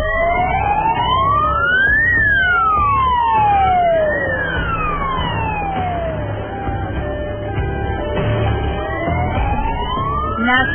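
Ambulance siren on a national highway in India, loud and close, wailing up and down in repeated sweeping cycles over a rumble of traffic.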